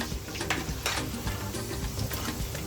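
Steady crackling sizzle of Ghanaian plantain chips frying in hot oil, continuous and close, with light popping and no voices.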